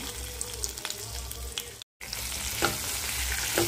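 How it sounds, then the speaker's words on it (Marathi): Sliced okra (bhindi) frying in hot oil, a close, continuous sizzle with stirring scrapes, broken by a brief silent gap midway before the frying resumes louder. "सुरुवातीला ही भेंडी मी फ्राय करून घेते। तेलामध्ये तेल टाकलेलं आहे, त्यामध्ये ही भेंडी टाकून घ्यायची।"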